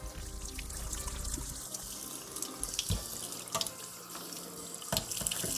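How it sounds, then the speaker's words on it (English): Tap water runs steadily into a sink while a straight razor is refreshed on a sharpening stone, a constant close splashing rush with a few faint knocks and clicks over it. "let's go ahead and cut that water down a little bit. We don't need that much water."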